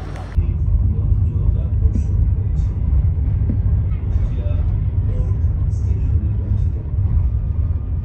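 A Bangladesh local train rolls through dense traffic and market stalls, with a deep continuous rumble, passing vehicles and occasional air-brake hisses heard under a person talking.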